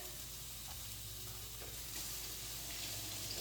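Corned beef hash with potatoes frying in a pan gives a steady, close hiss and crackle of hot fat, with faint stirring scrapes running underneath throughout.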